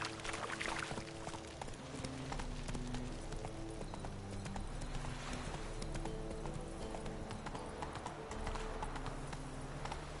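Roach the horse trots in The Witcher 3, its hooves clip-clopping in a quick, continuous rhythm over ambient game sounds, with no voices.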